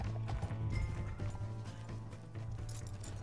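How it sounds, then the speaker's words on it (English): Horse hoofbeats at a gallop in Red Dead Redemption 2, a steady rapid clip-clop running under dense game music and ambient noise throughout, with a faint voice in places. "Come on, horse, let's get it."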